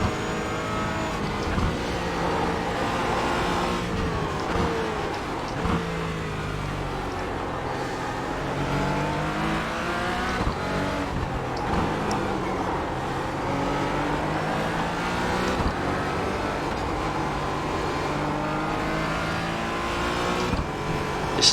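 A Porsche GT4 race car in the iRacing sim at Summit Point or Laguna Seca drones steadily, its engine note rising and falling through gear changes and revs, loud and continuous with no talk.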